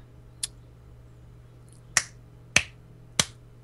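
Three sharp hand claps ring out alone in a quiet room, evenly spaced, preceded by a fainter single click.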